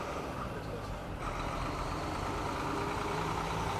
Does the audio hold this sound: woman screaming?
no